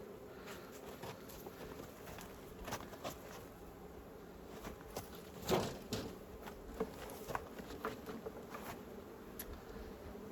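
Honeybees swarm around a hive in a faint, steady buzzing hum, with occasional soft taps and rustles over the drone.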